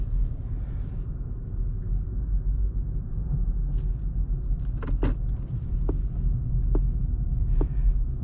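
Low, steady road rumble and hum inside a Rivian R1T Launch Edition with 135 kWh pack on 20-inch all-terrain tires, rolling at about 5 to 7 mph, with a few faint clicks over the drone.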